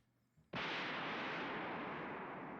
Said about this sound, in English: An explosion shook the air.